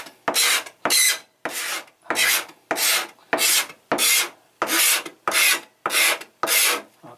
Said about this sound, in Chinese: 再来你就用这个菜刀去刮它哈